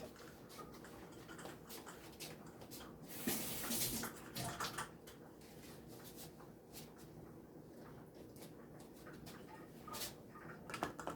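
Water runs from a kitchen tap to rinse out a small funnel while bottling Bajan hot pepper sauce, a steady close hiss of running water lasting throughout with a brief louder splash partway through.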